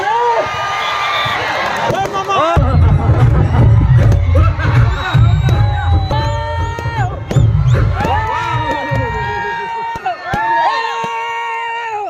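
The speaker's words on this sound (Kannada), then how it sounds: "ಈಗ ಬನ್ನಿ ಚಪ್ಪಾಳೆ" A crowd at a kushti wrestling bout between Deva Thapa of Nepal and Ravikumar of Himachal claps and cheers loudly. Whoops and shouts rise over the roar, and an announcer's voice carries over the noise.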